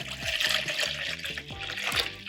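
Water pours steadily into a measuring container during Belgian saison homebrewing, a near, continuous gurgling trickle with rising bubbly tones as the vessel fills.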